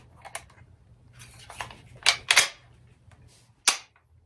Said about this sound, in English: the safety is a lever located here